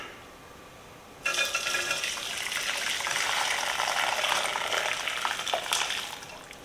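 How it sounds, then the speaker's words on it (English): Turkey stock is poured through a strainer into a bowl, starting abruptly as a steady, close gush of liquid that runs on and tapers slightly toward the end. "I'm just going to pour the stock through that so anything large will be caught up in the strainer"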